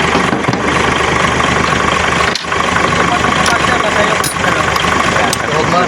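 An Isuzu 6WG1 diesel engine in a tractor head idles loudly and evenly up close, with a steady low rumble and brief dips, while someone talks over it.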